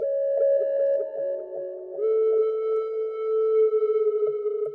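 Filtered synth track with much of the midrange cut away, leaving a thin, smooth sustained tone that slides between notes over a quiet low pulse, loud and alone.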